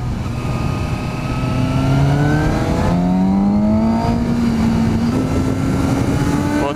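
A Suzuki GSX-S 750 motorcycle rides along a forest road, its engine droning close and steady, the pitch climbing through the revs, dropping at a gear change, then rising again.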